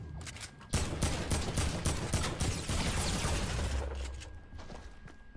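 Rapid bursts of AK rifle fire in a first-person shooter video game crackle loudly for about three seconds, a dense automatic stream with sharp individual shots, then trail off into scattered echoes.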